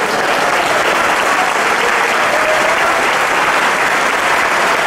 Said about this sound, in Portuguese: Vamos aplaudir ao mestre.